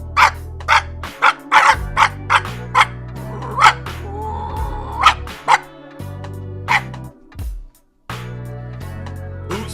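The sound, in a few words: man imitating dog barking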